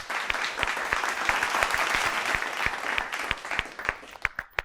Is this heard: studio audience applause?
yes